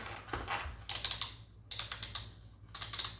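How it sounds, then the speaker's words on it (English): Sharp rapid ratcheting clicks from the rear fit-adjustment dial of an IXS Trigger FF full-face bicycle helmet, heard in three quick close bursts with short pauses between them. "I do like the click ratcheting rear adjustment here"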